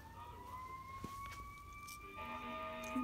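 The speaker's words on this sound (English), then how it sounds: "I know it's sirens" Emergency sirens wail steadily at a distance, two rising tones sliding slowly upward, with a low background rumble and a brief thump partway through.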